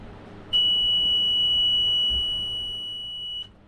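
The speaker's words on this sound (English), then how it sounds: "This is what we call a standalone high water alarm." A standalone high water alarm aboard a boat sounds one loud, continuous high-pitched electronic tone for about three seconds, starting and stopping abruptly over a quiet background.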